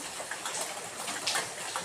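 Light rain falls steadily in the monsoon season, a soft broadband patter with scattered tiny drips and ticks, fairly faint and continuous with no voices.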